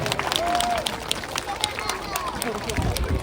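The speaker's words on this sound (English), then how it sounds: "Now you can give the boy a round of applause for his impression" Safari park audience clapping for a sea lion named Bounty, scattered and moderate, mixed with crowd babble and a nearby voice talking over it.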